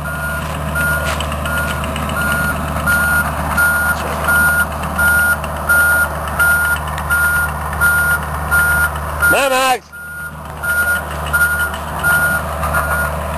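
A truck's reversing alarm beeps steadily in a regular rhythm over a running engine, briefly interrupted by a shout before the beeping resumes.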